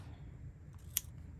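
Scissors make one quick, crisp snip close by, cutting a sheet of paper in half for a junk journal page, over a faint background hum.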